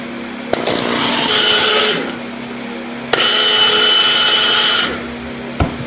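Stirring oil for cold process oatmeal soap, a loud steady motorized whir in two long bursts separated by a pause, with sharp clicks as the mixer switches on and off.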